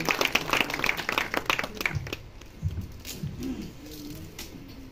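An audience applauds at a book launch during a literary club seminar, a short burst of scattered clapping that fades after about two seconds into low murmurs and shuffling.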